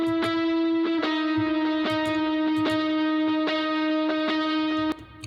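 Electric guitar with reverb, panned right with the reverb centered in a song mix: sustained harmonic notes with repeated picked attacks roughly every second, loud and steady, with a ringing tail, no voices.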